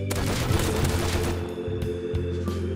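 A large-caliber gun fires in the survival video game Rust, loud dense bursts of gunfire and booms packed together, with several sharper separate shots standing out near the end and no talk.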